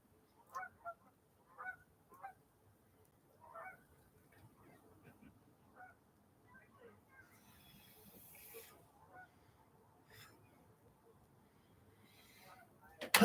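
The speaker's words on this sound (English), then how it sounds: "getting invaded by geese" Geese honk in scattered bursts at a distance, faint and intermittent over a quiet background, with a sudden loud noise at the very end.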